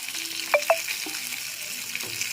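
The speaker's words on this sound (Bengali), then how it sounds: "তিনটে মাছ প্রথমে ভেজে নিচ্ছি" Khoira fish frying crisp in hot oil, a soft steady sizzle with a couple of brief sharp spatters and clinks near the start, no voices.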